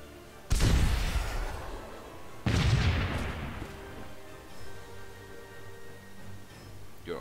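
RPG fire in the video game Warmachine: Tactics lands as two heavy booming blasts a couple of seconds apart, each followed by a fading rumble, with quieter game sounds in between.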